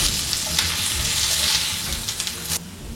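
Breaded mozzarella fries golden in a pan, giving a loud, continuous sizzle with crackling bursts and a few stirring scrapes before it drops away at the end.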